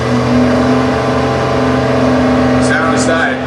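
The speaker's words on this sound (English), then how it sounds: "you hear the groaning, screaming weirdness of the exhaust tone" A Stock Eliminator drag car from the early-60s big Chevrolet class revs loudly and steadily, its exhaust giving a groaning, screaming tone with strong sustained harmonics and no pauses.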